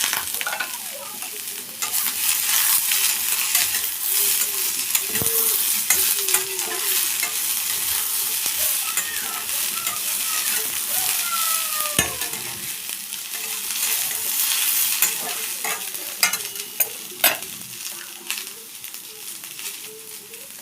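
Yardlong beans frying in a pan with onion and garlic, a steady close sizzle with occasional stirring scrapes and clinks running throughout.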